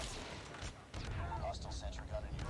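Rapid automatic fire from a deployed sentry gun in the Call of Duty Mobile video game, dense and loud, with chatter and other game sounds mixed in throughout.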